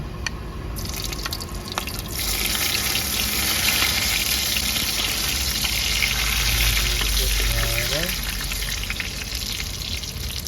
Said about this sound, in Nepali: अब परे जिरा राखेर जिरा फुराएर लसुनले फुराउँ अझै, लसुन राखेर